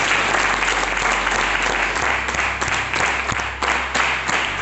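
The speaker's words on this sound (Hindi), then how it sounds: "संतरा जी के लिए तालियां होनी चाहिए।" A room of people claps steadily for Santra ji at a business plan meeting, a continuous dense patter of hands lasting nearly five seconds, fairly loud and close, with a low hum underneath.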